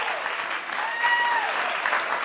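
A game show studio audience of older adults applauds the contestants, a dense, steady wash of many hands clapping at once throughout, with a brief faint whistle or cheer in the middle.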